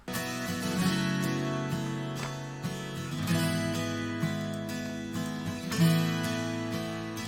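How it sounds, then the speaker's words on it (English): Layered country guitars, some strumming open chords while others ring out diamond chords, blend into a full, sustained wash of sound playing alone with no talk. "the other guitars are playing diamond chords just to make it sound a little bit more open"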